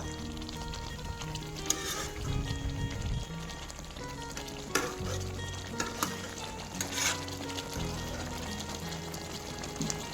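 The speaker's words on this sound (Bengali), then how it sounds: "পাঁচ মিনিট মতো ভালো করে নাড়াচাড়া করে নেব" Chicken pieces stirred and fried in a pan for a spicy chicken kosha, a steady low sizzle with scraping stir sounds and occasional clatters, no voices.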